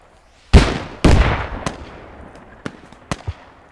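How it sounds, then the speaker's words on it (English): Enemy mortars fire in Squad: two heavy, loud booms in quick succession with long rumbling tails, then several sharper, fainter distant cracks. "Sounds like enemy mortars are firing"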